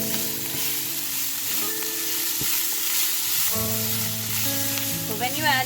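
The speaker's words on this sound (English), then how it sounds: "Now I'm going to add the ginger and garlic crush and going to mix it." Crushed ginger and garlic sizzling with frying onion for mutter paneer, a steady close hiss under repeated stirring scrapes, with a brief clatter near the end and no talking.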